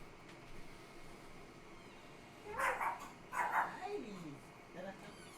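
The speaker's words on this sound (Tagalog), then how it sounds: "Alas, saan aso mo?" A dog gives a few short barks and a whimpering yelp during a late-night indoor livestream, fairly quiet, with people talking softly around it.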